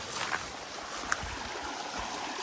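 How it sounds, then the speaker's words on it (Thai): A waterfall in a forested setting gives off a continuous broadband rush of falling water, steady and fairly close, with a few small splashes and no talking. "ได้ลงมา ถึงน้ำตกแล้วนะทุกคน"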